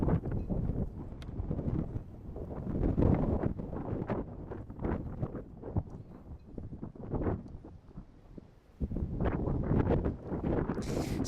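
Gusty wind buffets the microphone at a high school baseball field in rumbling, uneven bursts, loud and close throughout with no other sound standing out.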